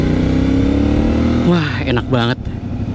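A CFMOTO 450MT motorcycle engine hums steadily at a constant pitch while riding, then a rider speaks briefly over it as the engine note dips and continues more faintly.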